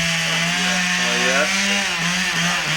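A chainsaw runs steadily at close range, its engine holding a loud, sustained droning whine that rises and falls a little in pitch, while someone briefly speaks over it.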